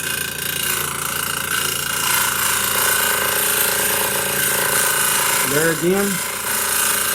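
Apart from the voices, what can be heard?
grinder sharpening woodturning skew tool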